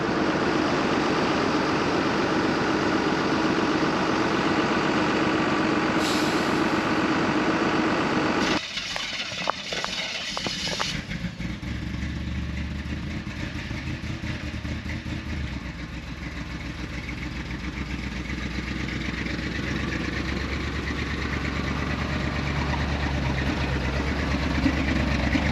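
An abandoned 1985 Chevrolet K5 Blazer engine runs with a steady rough rumble throughout, briefly stumbling and changing pitch partway before settling into a continuous low idle.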